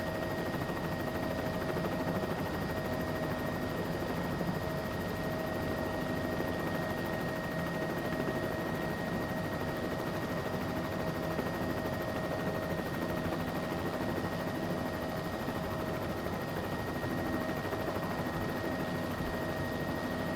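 Bell 206L3 helicopter in Microsoft Flight Simulator 2024 holds a steady, loud rotor and turbine drone with constant whine tones for the whole stretch, no talk over it.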